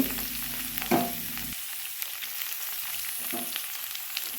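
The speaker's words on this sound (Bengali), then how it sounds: "কাজু চারমগজ আর কিশমিশগুলো এর সাথে অ্যাড করে দেব এগুলো একটু ভালোভাবে ভেজে নেব" Cashews, melon seeds and raisins sizzle in a pan, a constant crackling fry with a few scraping stirs, no talking.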